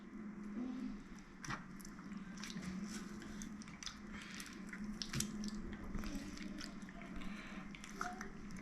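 A calamari squid is pulled apart by hand while being cleaned, separating the hood from the wing. Close, wet squelches and soft tearing squishes come under a faint hum of room noise, with no talk.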